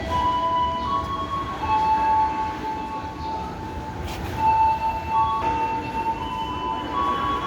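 A commuter train departing Rangkasbitung for Merak station rumbles steadily with faint metallic squeals and tonal whines from the wheels, a moderate continuous rolling sound with no voices.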